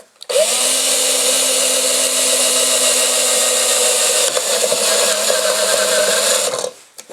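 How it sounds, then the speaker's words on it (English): A power drill whirs steadily and loudly for several seconds, a brief rougher bite midway as it cuts into a thin tin can, then spins down. "and then just drill in to here."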